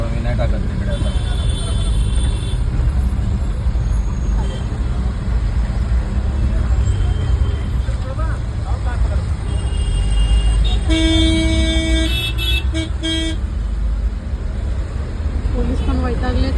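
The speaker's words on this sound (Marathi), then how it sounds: "फाउंटन ते मॅकडॉनल्ड्स अजून ट्रॅफिक आहे." Heavy road traffic jam on the Ghodbunder road in Thane, with a constant engine rumble, repeated car and bus horns honking near and far, and people talking over the din.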